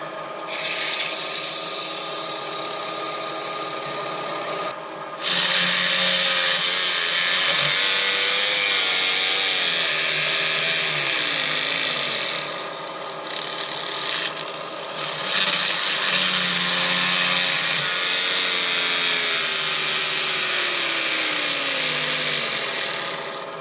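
Close, steady rasping of abrasive on a wooden fruit bowl spinning on a lathe, a long continuous sanding run with two brief pauses as the paper is lifted.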